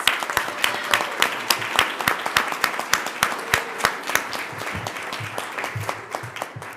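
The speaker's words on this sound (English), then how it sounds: "So a round of applause for those that are in the audience." A crowd at a board of trustees meeting applauds audience members being recognized, with sharp, distinct claps in a loose rhythm, fairly close and loud, continuing steadily with a slight thinning toward the end.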